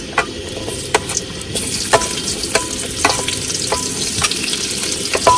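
Onions frying in hot oil in a wok, a constant crackling sizzle with regular scraping stirs and light metallic taps of a spatula roughly every half second, no speech.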